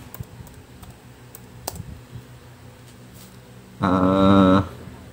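Light keystrokes on a computer keyboard as a search is typed, scattered soft clicks at low level, followed by a short louder tonal burst near the end.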